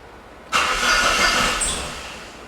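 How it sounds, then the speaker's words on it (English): A Saab 9-3 Turbo with low oil pressure turns over and catches, settling into a steady close-up idle that slowly eases in loudness, with no one talking. "enough to definitely be able to fire it up and find out if it's gonna start tapping again"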